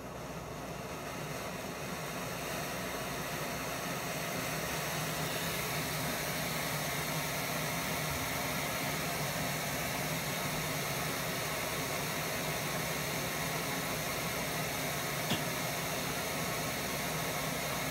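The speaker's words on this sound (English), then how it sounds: "it does have that sound as a rocket. So, quietest stove on earth, definitely not." An MSR Pocket Rocket camping stove burns with a steady, loud roaring hiss that stays constant and close for the whole stretch, with no other sounds.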